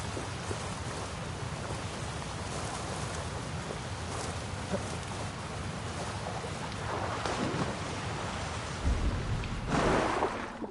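Waterfall in Assassin's Creed Valhalla, a dense constant rushing roar of falling water, loud and steady throughout, swelling briefly louder near the end.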